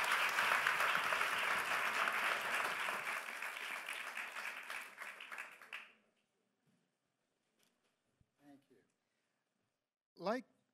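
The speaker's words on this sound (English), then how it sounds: "A big round of applause, please." Audience clapping at a conference event, a dense round of applause that holds for about six seconds and then stops sharply, followed by near silence with a few faint shuffles and a brief voice at the end.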